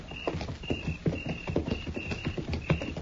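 Horses' hooves clip-clop steadily in a radio drama Western, a regular rhythm of close, hollow knocks on hard ground with a faint high tone behind them and no talk.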